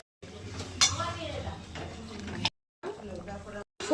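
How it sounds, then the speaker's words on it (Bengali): Beans and eggplant are stir-fried in a pan, a spoon clanking against the metal with brief scraping bursts and a light sizzle, broken by short pauses. "সিম আর বেগুনগুলো দিয়ে দিলাম, আর একটু ভেজে নিলাম"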